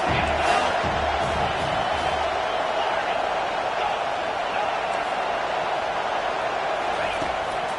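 Football stadium crowd noise on third down, a dense continuous roar of cheering fans, loud at first and then settling into a steady din, with a commentator talking over it.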